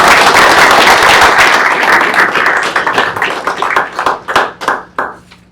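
A school board meeting crowd gives a round of applause for the April student of the month, dense clapping that thins out into scattered individual claps toward the end.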